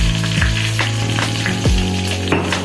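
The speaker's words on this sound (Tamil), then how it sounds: "இனி நம்ம கருவேப்பிலை போடணும். அப்புறம் இடிச்சு வச்ச பூண்டும் புளியும் போடணும்." Curry leaves, crushed garlic and tamarind drop into hot oil and sizzle loudly and close, a dense continuous crackle with a few sharper bursts as ingredients hit the pan.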